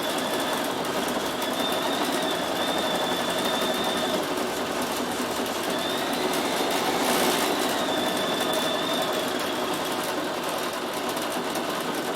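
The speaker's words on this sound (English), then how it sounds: "So I've done that on the fastest that machine can sew that name, and it's on full speed." A Bernina 7 Series sewing machine with the embroidery module stitches a name at full speed, a steady mechanical whir with a faint rhythmic knock running continuously, close and alone.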